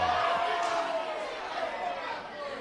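Football crowd at a men's Premier League match groans and murmurs after a wasted chance, a broad wash of many voices that fades slightly, with a commentator talking over it.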